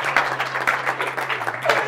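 Applause from a live audience at an Italian food-tasting show, steady clapping throughout with a low hum underneath and some voices mixed in.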